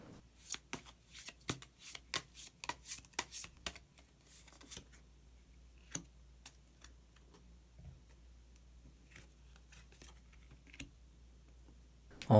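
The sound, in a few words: shuffling and drawing tarot cards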